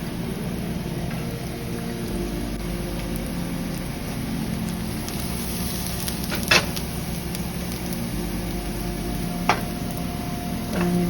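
Garlic sizzles in hot olive oil in a wiped-out skillet, a steady broadband crackle and hiss running continuously and fairly close, with a couple of sharper pops standing out.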